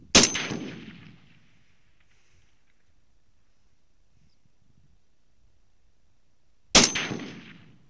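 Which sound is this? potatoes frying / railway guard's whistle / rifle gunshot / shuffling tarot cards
rifle gunshot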